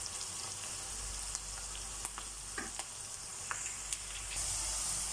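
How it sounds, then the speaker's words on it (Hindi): Onions fry in a pan, browning with a steady close sizzle and scattered small pops and crackles throughout. "तो प्याज हमारा हल्का हल्का ब्राउन हो चुका है।"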